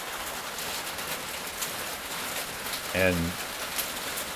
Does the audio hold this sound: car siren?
no